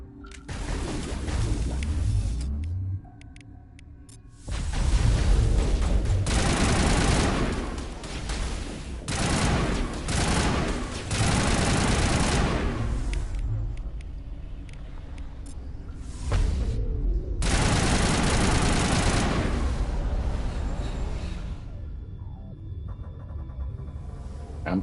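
Sustained bursts of automatic gunfire from a firefight in the video game Mass Effect Legendary Edition, loud and dense, with brief lulls around five and seventeen seconds between heavy volleys.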